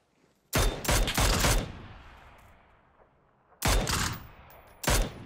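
Gunfire in the video game PUBG: a rapid burst of several loud shots, a quiet stretch with fading echo, then two more sharp bursts of shots near the end.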